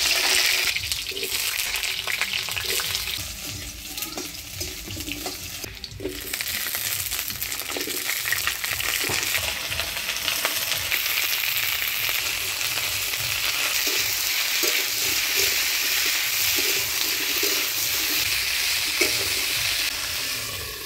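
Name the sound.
potato and cauliflower frying in oil with turmeric and salt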